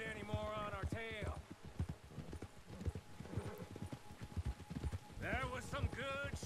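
Horses galloping in Red Dead Redemption 2, a fast, close, continuous patter of hooves with a whinny at the start and another near the end, under spoken dialogue.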